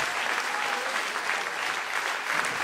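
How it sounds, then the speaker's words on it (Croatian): Steady, dense applause from a concert audience at a tamburica music concert in memory of Krunoslav Kićo Slabinac, filling the room evenly without pause. "Dame i gospode, jedan aplauz za gospodičnu Ivanu Kindl"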